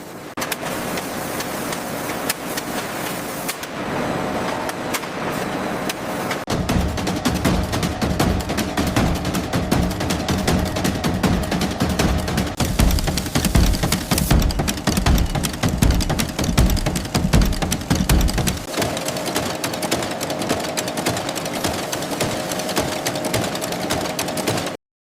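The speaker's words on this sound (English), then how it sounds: "the fabrics are cut with millimeter precision laser technology and then sewn together by multi-needle robotic arms" Multi-needle robotic arms sewing garments from coconut husk fabric in a factory, a loud, steady mechanical chatter of rapid needle strokes and motor hum that runs without pause, with rhythmic pulsing in the middle stretch.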